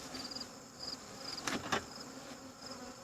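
Honey bees buzzing around an open hive during an out-yard inspection, a soft continuous hum with a few brief louder knocks from the hive equipment.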